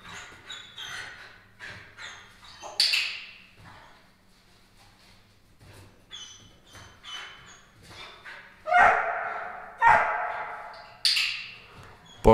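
A young puppy during a training session gives a few scattered yips and barks, fairly close, with gaps of quiet and some whimpering between them.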